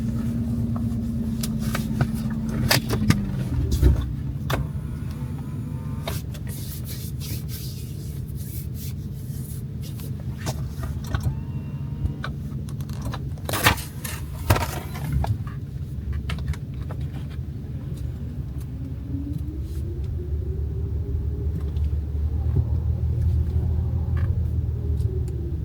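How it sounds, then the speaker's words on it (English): Inside a car, the engine idles with a steady low rumble while power windows whir briefly and scattered clicks and rustles sound close by, no talking. "I'm in the car finally."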